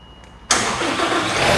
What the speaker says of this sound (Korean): 잠깐 시동 좀 켜겠습니다.